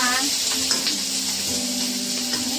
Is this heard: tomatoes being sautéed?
yes